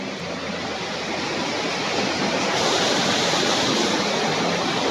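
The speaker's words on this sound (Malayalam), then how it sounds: "നല്ല ശക്തിയിലാണ് വെള്ളം ഒഴുകുന്നത്" Strong monsoon river water rushes under a bridge near Munnar, a loud, dense, unbroken roar that holds steady throughout with no voices.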